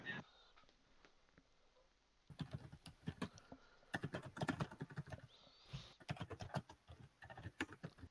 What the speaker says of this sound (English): Guess I gotta finish typing it out.